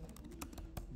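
A handful of quick keystrokes tap softly on a computer keyboard as a terminal command is typed, faint and close with short gaps between clicks.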